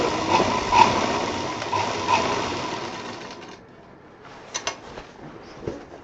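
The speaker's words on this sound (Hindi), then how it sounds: "खोलते हुए पूरा गोलाई के साथ इसको हम सिल जाएंगे" A sewing machine stitches a homemade travel bag, running in a loud, close, steady whir for a few seconds before stopping, followed by faint clicks and fabric handling.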